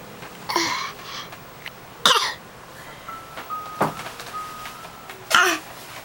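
A child gives three short, forced fake coughs, spaced a second or more apart, close and fairly loud against a quiet room.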